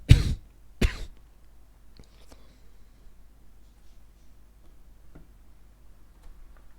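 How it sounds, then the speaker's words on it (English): Two sharp coughs close to the mic at the start, then near silence with a few faint clicks and a low steady hum. "Sorry about all the coughing"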